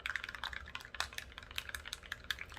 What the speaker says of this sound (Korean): 잘 섞고 계신가요? 이렇게 잘 섞어주세요.